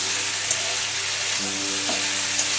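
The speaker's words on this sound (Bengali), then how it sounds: "এদিকে উচ্ছে আলু ভাজা বসিয়ে দিয়েছি, আর একটু নুন হলুদ দিয়ে দিলাম" Sliced bitter gourd and potato fry in a pan with salt and turmeric, a steady close sizzle and hiss with faint stirring clinks now and then, no voices.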